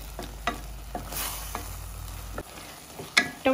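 Tomatoes fry with ginger-garlic paste in a pan for tomato bath. A steady sizzle runs beneath, and several spoon scrapes and taps from stirring land at irregular moments, close and clear.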